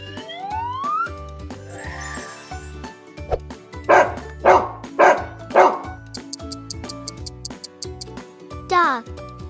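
A dog barks four times in an even, loud sequence over bouncy children's music, with cartoon sound effects around it and a child-like voice present.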